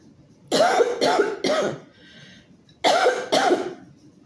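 A person coughs five times, a quick burst of three, a short pause, then two more, close and fairly loud.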